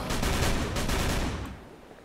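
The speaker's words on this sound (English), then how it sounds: "I'm gonna bust out my Tommy gun." A Tommy gun fires in the video game Call of Cthulhu: Dark Corners of the Earth, a close, loud burst of rapid automatic shots that fades into a short echoing tail.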